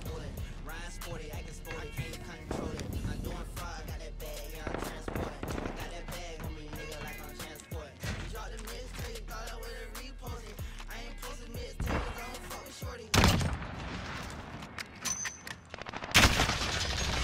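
Shotgun blasts in Call of Duty: Modern Warfare free-for-all play, loud repeated booming shots mixed with other gunfire and game effects, with someone talking over parts of the action.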